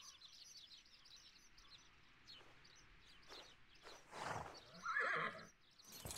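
A horse in the video game The Unicorn Princess whinnies loudly near a stable over a soft outdoor ambience of birdsong and faint hoof steps, with a second shorter snort near the end.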